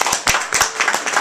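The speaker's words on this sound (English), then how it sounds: "Give her a big round of applause" An audience applauds a host being introduced at a marketing talk, a dense patter of many hands clapping, close and fairly loud.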